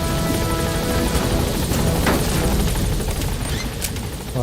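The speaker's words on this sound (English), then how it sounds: "Support helicopter has arrived." A support helicopter arrives in the video game Metal Gear Solid V: loud, close, continuous rotor thumping and engine roar fills the whole moment.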